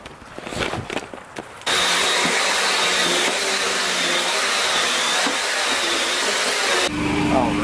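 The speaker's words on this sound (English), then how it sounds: "I'm gonna pre-vac and then" A vacuum cleaner pre-vacuums carpet in a rental home, first off after a few brief knocks, then a loud steady whine that runs unbroken for several seconds before shutting off near the end.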